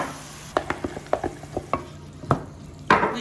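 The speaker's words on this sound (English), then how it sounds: "We're gonna toss them in with a little bit of teriyaki sauce and sriracha and salt and garlic and ginger." Tofu being stir-fried in a pan with teriyaki sauce, sriracha, salt, garlic and ginger; a run of short stirring scrapes and sizzling bursts sounds close by and fairly quiet, with no talk.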